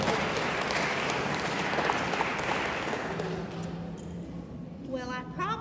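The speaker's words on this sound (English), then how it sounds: "Let's give an applause for Dr." An audience at an oral health presentation applauds the presenter with steady dense clapping that gradually fades, and a voice begins speaking near the end.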